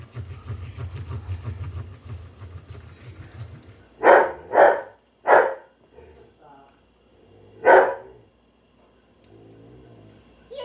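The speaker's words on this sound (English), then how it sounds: "Cooper, what are you barking at?" Cooper the dog lets out four loud, sharp barks nearby, three in quick succession and one after a short pause, following a stretch of low indoor murmur.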